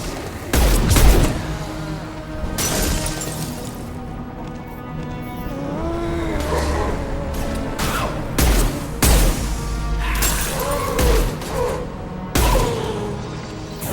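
Gunfire in Mass Effect 2 Legendary Edition: several sharp bursts of shots crack out at intervals amid a dense, rumbling game soundscape with whooshing and engine-like drone throughout.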